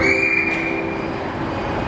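Seattle light rail train pulling into a platform fitted with screen doors, a steady loud rumble with a sustained tonal whine and faint wheel squeal, alone with no talk.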